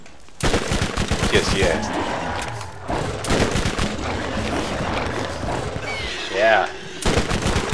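Rapid bursts of repeater pistol gunfire fill a Borderlands video game firefight, loud and nearly continuous with short pauses, layered with game effects while someone speaks briefly over the shooting.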